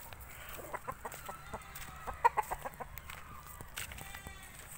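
A tailless gamecock rooster gives a short series of soft, quiet clucks at moderate distance over a faint outdoor background.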